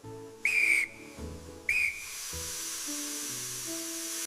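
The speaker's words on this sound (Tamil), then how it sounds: "தண்ணி சேர்த்து 5 முதல் 8 விசில் வர வேக வைக்கவும்." Two sharp, loud hissing whistles from a pressure cooker cooking mutton, the second trailing into a steady steam hiss, over soft background music.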